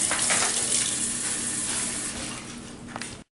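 Water runs steadily from a kitchen tap as a hand is wetted before spreading focaccia dough on a countertop: a close, continuous hiss that eases slightly and then cuts off abruptly near the end.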